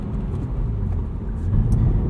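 A stock S54 straight-six in a 2008 BMW Z4 M Coupe drones steadily with a deep, even engine rumble while cruising, heard alone from inside the cabin.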